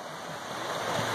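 Storm floodwater pours through a washed-out roadside culvert in East Texas, making a steady, loud, broadband rushing roar with no breaks, close by.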